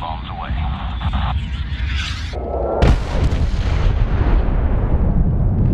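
Bombs explode in the 2010 Medal of Honor video game during an air strike on a runway. A deep, rumbling boom with a sharp broadband blast sits among loud battle noise, and radio voices talk over it.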